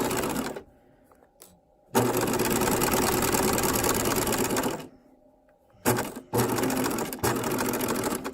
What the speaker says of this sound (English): When I get all the way to the end, I'll sew forward.